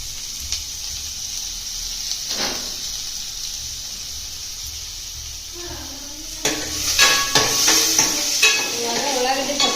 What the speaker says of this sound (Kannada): ಕರಿಬೇವು ಈಗ ಸ್ವಲ್ಪ ಒಳಗಡೆ ಹಾಕ್ತೀವಿ.